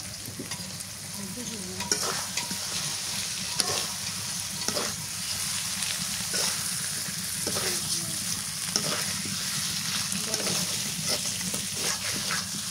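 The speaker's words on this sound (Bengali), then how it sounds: "এখন মাংসটা দিয়ে নিলাম, মশলা কষানো হয়ে গেছে, মাংস দিয়ে নিলাম।" Rooster meat frying in spice paste in a pot on a clay stove, a steady loud sizzle with recurring stirring scrapes, no voices.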